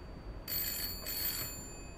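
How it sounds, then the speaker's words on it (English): A telephone in a bookshop rings twice in short electronic bursts, clear and fairly close over quiet background hiss. "I'd like you to call the telephone in my bookshop, please."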